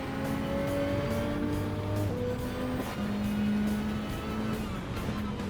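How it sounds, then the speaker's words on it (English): Toyota GR Super race car in Gran Turismo 7, its engine droning steadily and loud throughout with shifting pitch as it races along, no speech over it. "Got the GR Super race car."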